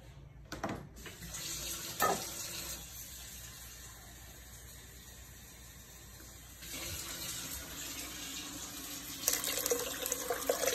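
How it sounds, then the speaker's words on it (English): A kitchen tap runs steadily for several seconds during cooking, a continuous close rush of water that swells louder toward the end, with no talking over it. "I'm going to get a little bit more water."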